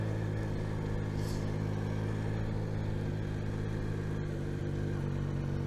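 A Yamaha Tracer 9 GT motorcycle's CP3 three-cylinder engine runs steadily at a close, constant idle-like drone, with no talking over it.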